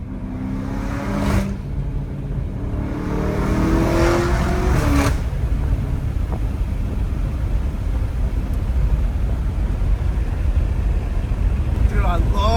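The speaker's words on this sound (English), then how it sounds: "Dude, I love the Hellcat noise, bro." A Dodge Hellcat Redeye engine revs hard and then settles into a loud, sustained rumbling drone close by, among a group of cars that includes a straight-piped BMW M5 and an M8, with voices talking over the start.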